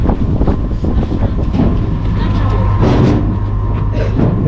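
Strong wind gusting across a moving bridge by the Strait of Magellan, a steady loud roar with low rumbling throughout, some vehicle-like drone underneath.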